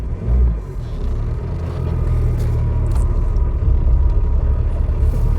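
A Tata Safari SUV drives slowly around a car park, its engine giving a steady low rumble that builds slightly as it moves, heard from inside the vehicle.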